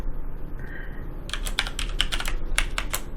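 Password typed on a computer keyboard, a quick burst of crisp key clicks in an irregular rhythm, close and clear over a quiet background.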